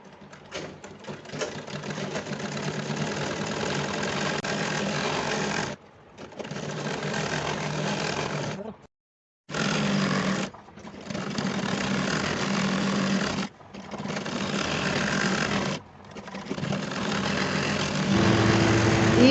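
A sewing machine stitches elastic into the waistband of palazzo pants, whirring steadily in long runs broken by short pauses, close and fairly quiet.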